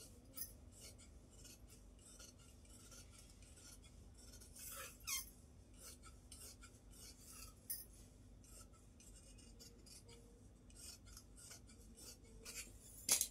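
Scissors snipping through material in a tidy tailoring cut, a series of quiet, close crisp snips and slides at an uneven pace, with small bursts and faint handling noise between them and no voices.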